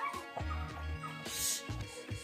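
A dog in another room of a home gives a few short yips and barks while a child baby-talks to it, all heard from a distance.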